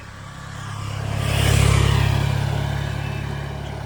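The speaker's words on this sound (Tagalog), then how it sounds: "Ano yung motor?" A motorcycle passes along a rural village road, its mid-pitched engine drone swelling as it approaches, peaking close by, then fading steadily as it rides away, with no voices.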